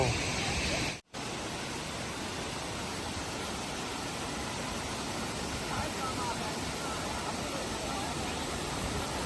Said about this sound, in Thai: เรามาแวะที่น้ำตกครับ